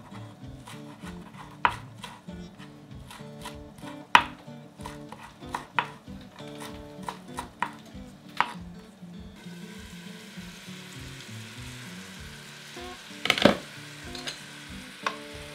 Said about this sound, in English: then I take cilantro and I just put it right on top and I just chop it again